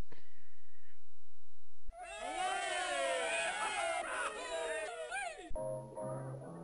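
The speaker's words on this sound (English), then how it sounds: "They give you a little cheer there." A crowd in the video game Shufflepuck Cafe gives a short burst of cheering, whoops and yelps after a few seconds of near silence, loud and busy before cutting to a quieter tone near the end.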